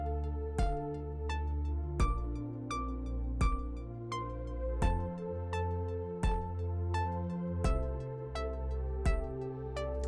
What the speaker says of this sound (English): you've got a really simple kick drum part